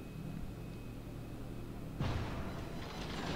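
Cannon fire in a naval battle video game: a single deep, muffled boom that breaks over a steady low rumble of engine and sea noise, then lingers as a broad, rumbling tail.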